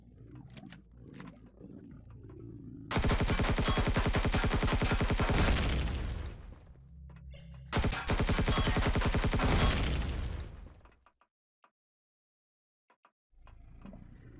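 Bursts of rapid turret gunfire in the Empyrion Galactic Survival game, two long loud volleys of a few seconds each separated by a brief gap, followed by near silence and a final short burst.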